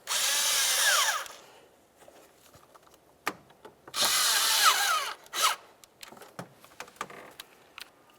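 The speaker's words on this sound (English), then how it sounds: "Now let's tighten up our clamps." Cordless power driver tightening hose clamps on the air intake hose of a Nissan Sentra, two loud sustained whirring bursts of about a second each, separated by clicks and handling noises close by.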